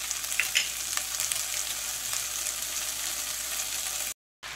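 Strips of onion with yellow and red bell pepper sizzle in a frying pan for an eggplant and meat dish, giving a steady, close frying hiss that cuts out briefly near the end.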